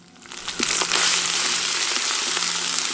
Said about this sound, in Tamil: இப்ப நம்ம அரைச்சு வச்சிருந்த இஞ்சி பூண்டு மிளகு சீரகத்தை சேர்த்துடலாம்.